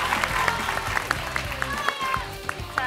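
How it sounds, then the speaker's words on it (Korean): A school audience of high school students at an economics concert applauds in a loud, continuous crowd clapping with sharp individual claps and overlapping voices. "박수 한번 부탁드립니다."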